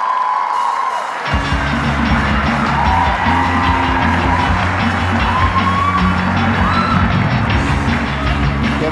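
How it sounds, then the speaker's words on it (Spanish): A live talk-show studio audience whoops, cheers and applauds loudly to welcome a guest onstage. The noise is steady and dense throughout, with yells rising above the crowd. "reciban con un fuerte aplauso a Sebastián Eslava"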